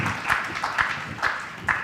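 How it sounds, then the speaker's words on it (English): Brief clapping at a policy forum, heard as a few distinct, evenly spaced claps, close and fairly loud, with little crowd noise around them. "Another round of applause for."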